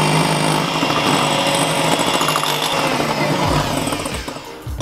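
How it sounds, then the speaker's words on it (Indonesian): An electric mixer at speed 2 beats cheese chiffon cake batter with a loud, close, steady whirring drone that wavers slightly as the beaters move through the bowl, with no talk. "selanjutnya kita kocok dengan speed di 2 ya"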